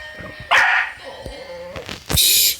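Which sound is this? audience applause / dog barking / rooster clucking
dog barking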